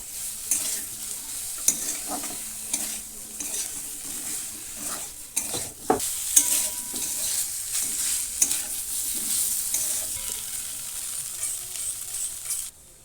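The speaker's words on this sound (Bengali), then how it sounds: "এটা দিয়েও দুই থেকে তিন মিনিট একদম কম আছে ভাজতে হবে" Chicken frying with coriander paste on low heat gives a steady, close hiss and sizzle throughout, broken by scattered scrapes and taps of a spoon stirring the pan.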